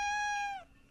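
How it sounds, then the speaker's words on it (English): A cat gives one short, clear, high meow, close and loud, fading away in under a second. "Little meows."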